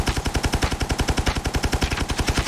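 Rapid automatic weapon fire from hipfire shooting in the mobile shooter Call of Duty: Mobile, a steady burst of closely spaced shots lasting the whole stretch, loud and close with no talking.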